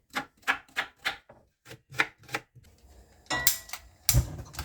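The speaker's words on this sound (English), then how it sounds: "A quick chop up." Onions chopped with a knife on a board for a soup, a run of sharp, evenly spaced chops, then a pause, a few more chops and a couple of louder knocks near the end.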